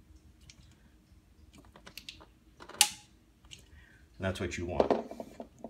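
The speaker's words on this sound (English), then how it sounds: "this torque screwdriver will make a pop when it hits 10 pounds" Torque screwdriver reaching 10 pounds on a fastener, a sharp single click near the middle amid small mechanical clicks and handling noise, with someone speaking afterward.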